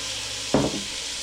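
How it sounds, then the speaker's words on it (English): Beef hits hot oil in a pan while cooking lo mein, giving one sudden close burst of sizzle and clatter that quickly fades back into a steady low hiss. "All right, we're gonna add our beef."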